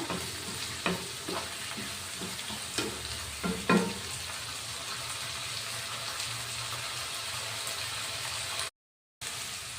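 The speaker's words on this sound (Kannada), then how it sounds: "ನೋಡಿ, ಈರುಳ್ಳಿ ಎಲ್ಲ ಚೆನ್ನಾಗಿ ಫ್ರೈ ಆಗಿದೆ" Sliced onions frying in a pan for a simple okra palya, a steady loud sizzle with a few scraping stirs of the spoon, continuous and close, cutting out briefly near the end.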